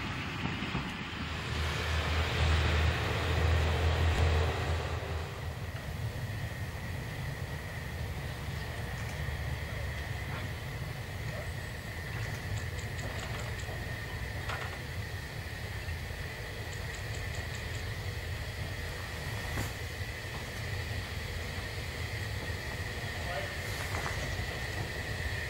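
A historic potato train on a narrow-gauge line in autumn rumbles steadily along the rails, a low continuous roll with wind buffeting the microphone and a louder surge near the start, heard at moderate distance.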